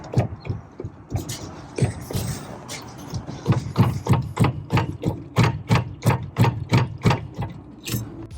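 Custom Gen 1 metal off-road chase rack rattling as it is shaken by hand, a close series of rhythmic clanks and knocks that speed up into a steady rapid beat.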